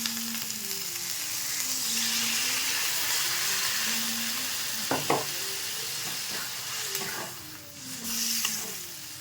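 Potatoes added to frying spice paste for an egg curry with capsicum, a steady loud sizzle with stirring scrapes and a brief clatter midway, close up and without talk.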